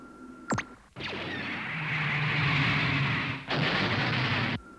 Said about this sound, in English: Fire laser cannons. Full power!